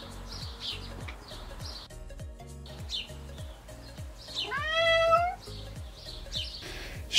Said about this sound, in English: Perhaps the most obvious noise they make is a melodic but very instant meowing.